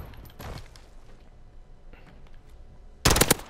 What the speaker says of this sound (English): put on burst fire